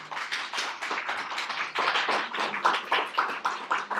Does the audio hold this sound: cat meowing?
no